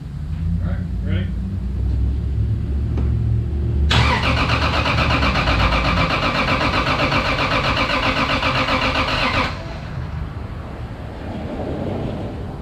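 A Toyota Supra engine cranks and catches, then runs loud and steady for several seconds with a dense rough roar before cutting off, while people talk nearby before and after.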